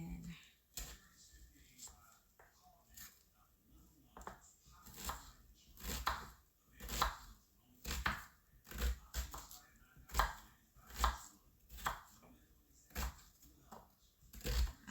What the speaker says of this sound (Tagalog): Mag-chop na ako ng onion.